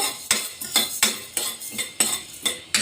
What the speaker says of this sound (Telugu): ఇప్పుడు వీటిని కొద్దిగా వేయించుకోవాలి ఆయిల్ ఏం వేయకుండానే వేయించుకోవాలి